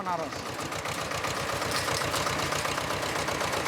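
A tractor engine runs at a steady, rapid thudding idle beat, loud and close throughout on a journey toward Benares, India.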